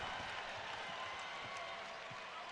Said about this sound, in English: you hear the crowd, they're loving it